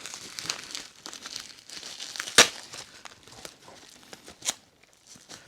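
Packing tape pulled and torn from a Kenner M.A.S.K. toy package: soft crinkling and rustling throughout, with one sharp ripping burst midway and a smaller tear near the end, close to the mic.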